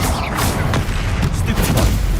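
Fire spell blast from the Confringo charm in Hogwarts Legacy: a dense, loud burst of crackling, rumbling noise that fills the brief moment.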